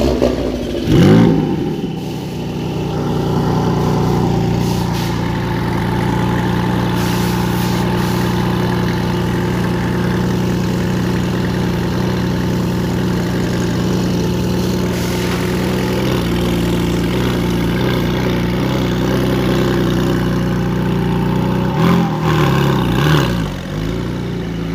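A 2022 Porsche 718 Boxster's engine idling, then rising in a deep, steady drone as the car pulls away, loud and close, holding a throaty rumble before it shifts near the end.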